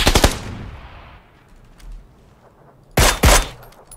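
Loud, close bursts of automatic gunfire in PUBG, one rapid volley at the start, then a quiet stretch with faint distant noise before two more sharp bursts near the end.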